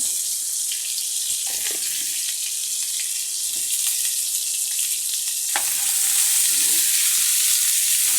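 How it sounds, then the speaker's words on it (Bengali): Potato pieces fry in hot oil with salt and turmeric for a vegetarian Bengali raw-banana dish, giving a continuous close sizzle with occasional stirring clicks that swells louder near the end. "আগের তেলের মধ্যে আলুটা দিয়ে দিলাম এর মধ্যে লবণ দিলাম হলুদের গুঁড়ো দিলাম"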